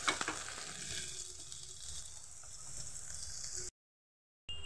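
Chopped onion frying in a pan for bread pakora, a steady close hiss and sizzle with a brief stir at the start, then a short dropout to silence before the sizzle returns.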